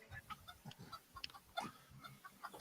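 Chickens cluck in a quick series of soft, scattered calls, fairly faint and close, with no one speaking.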